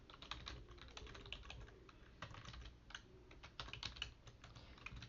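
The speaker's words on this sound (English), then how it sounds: "You're going to want to type in your email." An email address being typed on a computer keyboard, a quiet run of quick irregular key clicks heard close up and alone.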